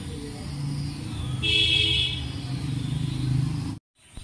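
Traffic on a main road through a village hums steadily nearby, with engine rumble and a short horn-like tone midway, before the sound cuts off abruptly.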